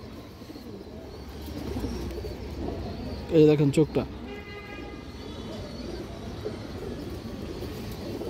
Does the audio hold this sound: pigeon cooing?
yes